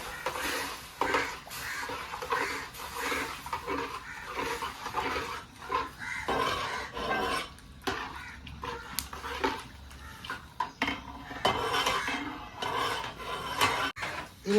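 A spoon repeatedly stirs garlic, ginger and tomato in a metal pan while making a vegetable kurma, with steady scraping against the pan and faint sizzling. There is no talk.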